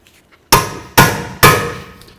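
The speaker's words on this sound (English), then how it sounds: "The best way to get these mounting screws out of here is, of course, to have one of these drivers right here and a hammer." Three sharp metallic hammer blows strike a screwdriver bit in an even rhythm, each ringing briefly before fading, close and loud, while loosening brake mounting screws on a Ford Fusion.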